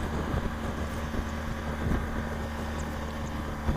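Steady wind buffeting roars past the rider on a 2013 BMW R1200 GS motorcycle, a continuous broadband rush with a low engine hum beneath it.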